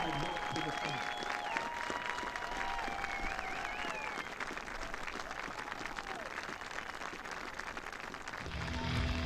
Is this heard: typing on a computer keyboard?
no